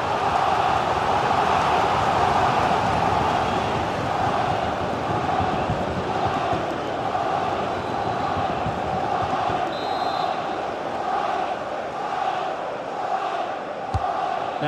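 A steady roar from a video-game football stadium crowd in FIFA 23 during a Premier League match, dense and continuous throughout, with brief surges of cheering and one sharp knock near the end.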